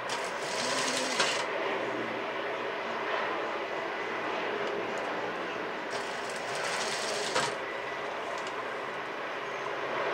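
A sewing machine runs in steady bursts as it stitches stretched tape onto a denim top made from old jeans, with a helicopter droning overhead in the background.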